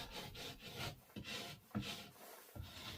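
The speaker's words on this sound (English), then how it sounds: "1 or 2 mil at a time with the rasp" A hand rasp scrapes along a plasterboard edge in short, rhythmic rubbing strokes, about six quiet, close passes with brief gaps between them.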